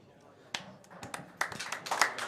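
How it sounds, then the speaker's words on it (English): A crowd applauding the winning player at the end of a pool match, scattered claps at first that build into fuller, denser clapping, with voices mixed in underneath. "this player is going to get a massive round of applause"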